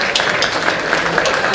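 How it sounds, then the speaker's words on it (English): Audience members at a car auction applaud after a 1934 Alvis Speed 20 SB saloon sells, a brief, even patter of clapping heard from a distance in a reverberant room. "another round of applause for Ed Herrmann"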